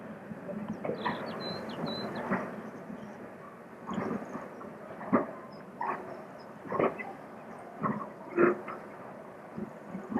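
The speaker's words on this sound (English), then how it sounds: "The train was then hauled onto the main line and into the tunnel so as to clear the points." A train hauled slowly from a ground-frame siding onto the main line toward a tunnel on a North Lincolnshire railway, with steady rumbling and a series of distinct clanks and thumps from the wagons, fairly close, with no speech.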